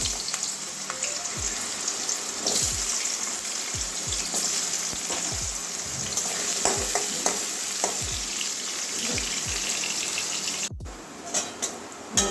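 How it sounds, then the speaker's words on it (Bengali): Potatoes frying lightly in hot oil for a Bengali bitter gourd and water spinach dish give a steady close sizzle, broken by scattered sharp crackles and spatula scrapes as they are stirred, no talk. "তেলের মধ্যেই আলু কটা ভেজে নেব হালকা আলুটাও কাঁচা গন্ধ যাওয়া পর্যন্ত ভাজবো"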